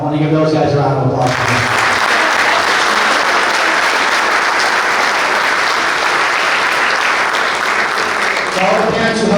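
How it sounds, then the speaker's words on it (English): A banquet audience at a boys lacrosse season event claps for the youth coaches, a loud, full burst of applause that starts sharply after brief talk and sustains evenly, with speech returning as it tapers. "I want to give those guys a round of applause."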